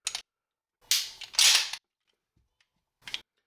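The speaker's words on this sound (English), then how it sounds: "Put one of the stock mags that comes with the Springfield Mil-Spec." Sharp metallic clicks and clacks as a magazine is handled and seated into a Springfield Armory Mil-Spec 1911 pistol, a few brief close snaps separated by short silences.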